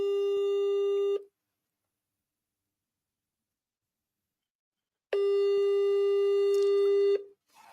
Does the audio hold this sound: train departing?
no